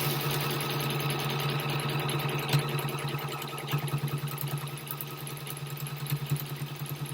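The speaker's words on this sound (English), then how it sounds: "Just do a bit of all sorts of sewing." A sewing machine stitches continuously with a steady mechanical hum and a fast, even clatter of the needle, close up and moderately loud, with no voices.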